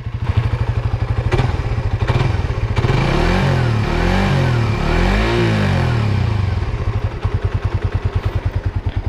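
A Yamaha motorcycle engine, successor to the Byson, revs up from idle and back down, loud and close, with the steady putter rising into a few seconds of higher revving before settling again, no talk.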